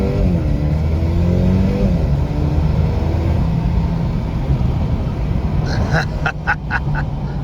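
A 2021 Mercedes-Benz AMG CLA35 4matic accelerating on the road, heard from inside the cabin as a steady, loud engine drone with a rising pitch, followed by a few sharp clicks near the end.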